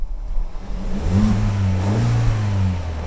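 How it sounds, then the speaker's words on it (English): A car engine revs up after an intake valve cleaning spray, a close, rising, throaty surge that holds at higher revs for a couple of seconds before easing. "Then once the can is empty, you rev the engine up 2 or 3 times."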